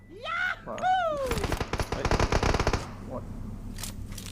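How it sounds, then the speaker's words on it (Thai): Rapid automatic gunfire in PUBG Mobile crackles in a dense burst, preceded by a shrill swooping effect and followed by a few fainter distant shots, with brief voice sounds. "ที่เขายิงกันอยู่นะ"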